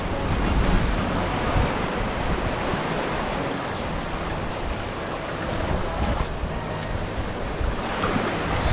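Surf rolls in continuously on a quiet beach at Billy's Bay in St. Elizabeth, Jamaica, a steady broadband wash mixed with wind noise across the microphone, with no voices.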